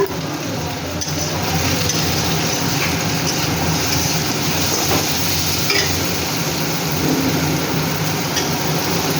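Teasel gourd, jackfruit seeds and potato frying with green chillies in a pan, a loud, dense and continuous sizzle with steady crackle throughout, no talk.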